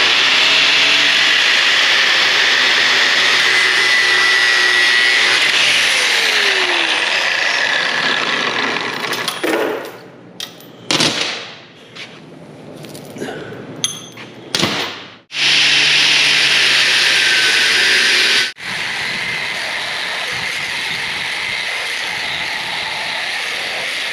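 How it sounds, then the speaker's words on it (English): A chain is cut during a plow repair, giving a loud, continuous close-up cutting roar for several seconds, then broken, uneven bursts, then a return to steady cutting noise. "we gotta cut a chain."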